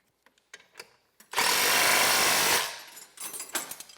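A power tool runs loud and steady for about a second, tightening the back axle bolt on a TracK-it track assembly, with a few short clicks and knocks before and after.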